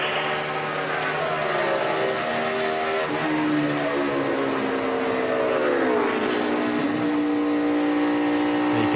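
NASCAR stock cars lap the Indianapolis track during the 2013 Brickyard 400, a loud continuous engine roar with several overlapping tones that shift in pitch as cars pass, filling the whole stretch with no voices.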